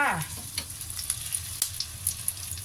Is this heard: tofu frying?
yes